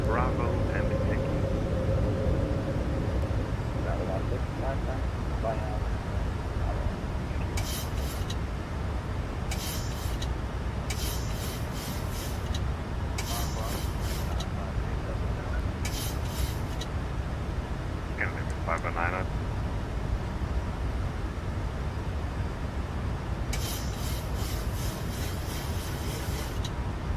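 A Boeing 737 MAX 8 climbing after takeoff in Microsoft Flight Simulator 2020, a steady loud engine roar throughout with intermittent cockpit clicks and brief bursts of radio voices over it.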